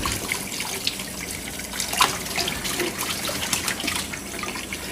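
Water runs and trickles steadily through tangled sausage casings for homemade Italian sausage, a close, continuous splashing flow with a few sharper spatters.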